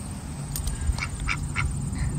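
Several ducks on a small horse farm in New York quack in a short burst of about five nasal calls, moderately close, over a steady low background hum with no talking.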